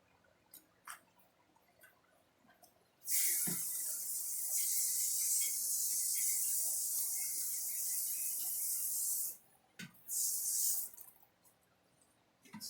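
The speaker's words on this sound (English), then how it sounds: "Rinse off this matting." A garden hose sprays water to rinse gold-mining sluice matting into a tote, a hissing spray that runs about six seconds, then comes back in a short burst after a pause.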